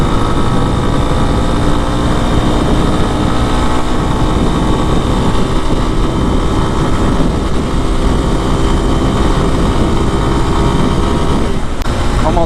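A Lifan KPX 250 motorcycle's 249cc fuel-injected overhead-cam single drones loud and close at high revs, a steady buzzing engine note mixed with wind rush and nearly constant in level throughout.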